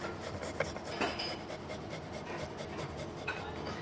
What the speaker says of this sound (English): I'm gonna grate some garlic.